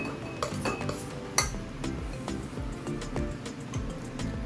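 Dishes and cutlery clink in a home kitchen as peanut noodle ingredients are put into a bowl, with scattered light clatters and one sharper knock over low background noise.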